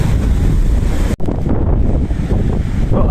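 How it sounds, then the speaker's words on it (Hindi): Sea waves wash and surge steadily along the rocky shore by Batkeshwar Mahadev in Dwarka, a loud, continuous roar with wind buffeting the microphone and a brief drop in level partway through. "ये लहर आ रही है"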